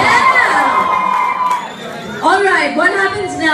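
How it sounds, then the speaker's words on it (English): A loud campus crowd at a college contest finale cheers, screams and whistles, with high shrill whoops and a dense wash of shouting voices that dips briefly and then surges again. "Clapping, screaming, whistling."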